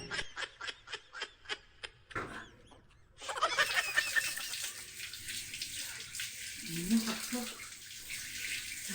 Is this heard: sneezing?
no